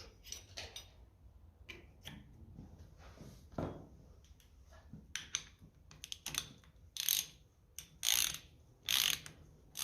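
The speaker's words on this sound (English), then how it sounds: "I think we will sort it just by screwing down the nut" A nut being run down a cylinder head stud on a 1957 Ferguson FE35 TVO tractor, heard as close mechanical ratcheting clicks and taps in uneven bursts that grow louder toward the end, with no speech.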